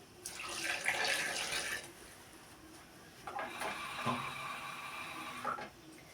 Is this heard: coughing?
no